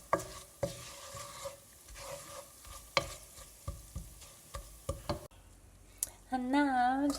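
Spices sizzling over medium heat in a pan for kitchari, with regular knocks and scrapes of a spoon stirring, then a short tonal squeal near the end as the sizzle swells.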